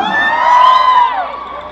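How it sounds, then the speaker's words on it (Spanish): A crowd of women at a DJ event in San Felipe Zihualtepec, Oaxaca shouts and cheers, a loud sustained burst of high voices and whoops that swells and then fades. "¿dónde están las mujeres? ¿Un grito?"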